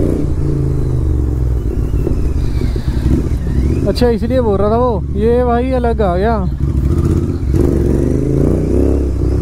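A Kawasaki Z900 motorcycle rides and accelerates, its engine droning steadily and then revving in rising, wavering bursts, loud and close under wind noise, while someone talks over it.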